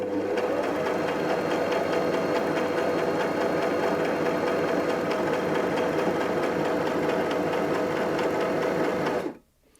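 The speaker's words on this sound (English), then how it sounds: "I'm going to select position B, stitch 1, to sew the left hand side of the buttonhole" A domestic sewing machine stitching the left side of a four-step buttonhole, a fast steady mechanical whir running loud and unbroken for about nine seconds before stopping abruptly.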